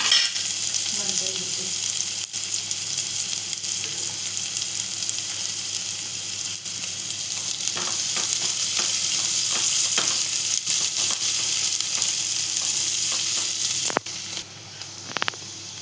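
Chopped onion sautéing in a pan for a Marathi egg curry (anda rassa), a steady close sizzling hiss with soft stirring scrapes running throughout, no voices.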